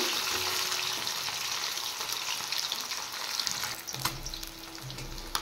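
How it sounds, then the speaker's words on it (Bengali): Fish frying in a pan, flipped to cook the second side, giving a steady close hiss and sizzle with a few brief clinks and stirring knocks near the end. "এবার এপিটটাও ভেজে নেব।"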